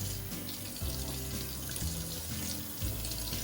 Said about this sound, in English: just peel it while it's running in the water, like this.